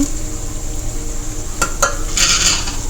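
Chopped tomatoes are stirred into sizzling ginger-garlic in a pan for a small-fish curry, a low frying hiss under a few sharp spoon scrapes and clinks near the end.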